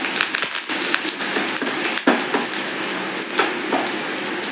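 Curry leaves crackle and sizzle in hot oil for a Tirunelveli fish curry tempering, a steady loud hiss broken by sharp spattering pops, with no voices.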